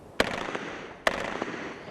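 An M3 grease gun fires two sharp, loud reports about a second apart, each trailed by a short reverberant echo, during a building-clearing exercise.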